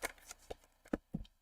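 A deck of tarot cards is shuffled close by in a few quick, soft riffling bursts and taps, each lasting well under a second, in a quiet room.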